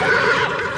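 A horse neighing in VRChat: a single short, close whinny, loud and alone.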